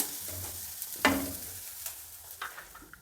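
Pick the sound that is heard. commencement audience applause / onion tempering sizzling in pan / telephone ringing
onion tempering sizzling in pan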